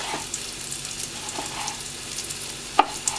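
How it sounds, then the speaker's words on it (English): Garlic browning in a hot pan in a small boat galley kitchen gives a low, steady sizzle, with a few soft stirring scrapes and one sharper clink near the end. "What I'm going to do is brown our garlic."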